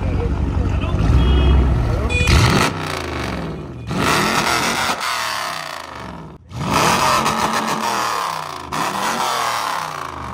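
A Dodge Challenger muscle car revs close by in several loud, rising and falling bursts separated by brief dips in engine sound.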